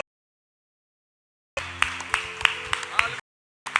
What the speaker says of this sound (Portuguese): Aleluia, nós aplaudimos ao Senhor.